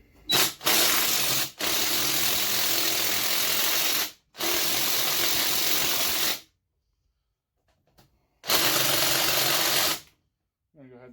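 Battery impact wrench set to loosen, working on bolts of an engine with a stuck carburetor float; three or four loud sustained whirring bursts of a few seconds each, separated by short pauses and a longer silent gap.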